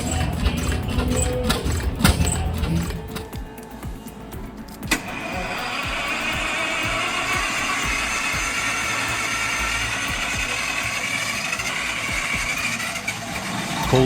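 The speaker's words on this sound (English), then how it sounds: "The South Penn half-reed stirs like an oil field's heartbeat. Steam hammers through its cylinders" A large old South Penn oil field engine chugs steadily after a brief start-up clatter, a continuous mechanical rumble with faint hissing, heard close and alone.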